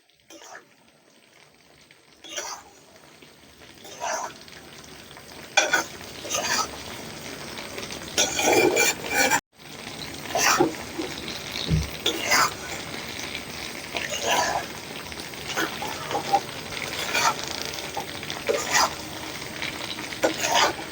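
Raw papaya pieces simmer and sizzle in sugar syrup over high heat while a spoon scrapes and stirs the pan in irregular strokes, with someone talking throughout.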